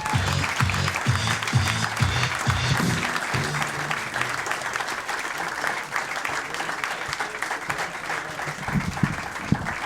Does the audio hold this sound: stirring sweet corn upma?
no